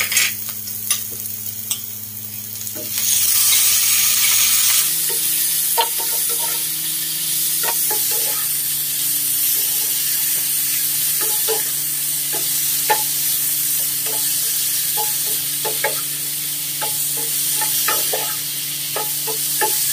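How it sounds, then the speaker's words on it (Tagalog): Marinated beef dropped into a pan with golden-browned garlic and onion: a steady, bright sizzle of frying throughout, with a shift in tone around five seconds and scattered small clicks of stirring. "Isunod ko na paglagay agad yung marinated beef."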